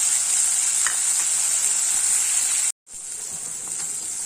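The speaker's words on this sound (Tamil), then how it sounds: "இப்போ பட்டை வாங்கி சேர்த்துக்கிறேன்" Cinnamon sizzles in hot oil in a pan while coconut milk rice is prepared. A continuous close frying hiss is briefly cut off by a short silent gap, then the sizzle resumes, with no voices.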